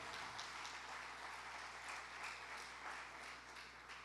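Church congregation applauding the King during a family service, continuous crowd clapping heard faintly and evenly, with a low steady hum beneath.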